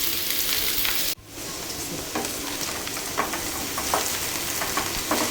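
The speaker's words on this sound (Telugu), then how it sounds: "పల్లీలు తీసుకున్నాక బెండకాయ ముక్కల్ని అదే ప్యాన్లో వేసుకోవాలి" Okra pieces fry in the same pan that just toasted groundnuts, giving a steady, dense sizzle with a brief dip near the start and occasional soft stirring scrapes, close up with no talk.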